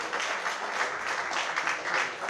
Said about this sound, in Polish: brawa dla Grzegorza